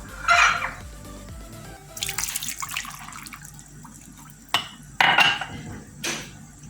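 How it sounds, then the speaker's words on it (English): Water runs from a kitchen tap in bursts while sauce ingredients for a beef stew are mixed with a cup of water, with splashing, dripping and light clinks of dishes, close and moderately loud. "I'm going to mix up all these ingredients with a cup of water"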